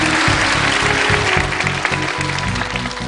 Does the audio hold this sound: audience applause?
yes